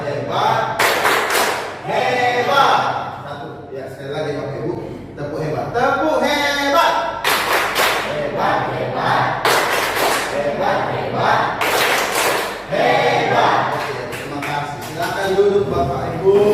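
A seated group does 'tepuk hebat', a patterned rhythmic clap in short bursts of quick, loud claps separated by brief pauses, with voices calling out and chanting between the bursts.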